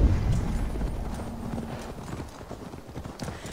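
Horse hooves clip-clopping in Assassin's Creed Valhalla, a close, steady run of rhythmic thuds with a heavy low rumble at the start and faint background sounds, no talking.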